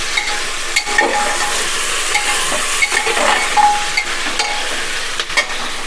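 Steamed jackfruit pieces stirred and fried in a pan with a steady sizzle, a spatula scraping and knocking against the metal now and then, close and loud, with no talk.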